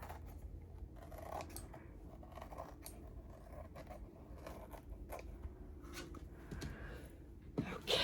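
Scissors trim the edge of a paper journal page, a run of faint, close snips and crisp paper rustles in an irregular rhythm, with a light scrape near the end.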